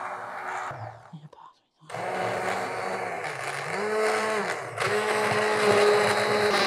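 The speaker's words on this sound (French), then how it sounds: "Je sais bien que le mixeur fait beaucoup de bruit." A kitchen blender puréeing courgette, onion and potato soup, a loud whirring motor that starts after a brief pause and holds steady, its pitch shifting slightly as the blades work through the mixture.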